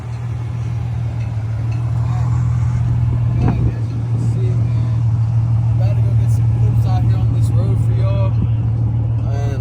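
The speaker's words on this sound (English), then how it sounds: "We're going to get some drive-by clips for you guys down here" An Infiniti G37 drives by with a steady engine drone and road rumble that stays fairly loud throughout, with a slight swell near the middle and faint background voices.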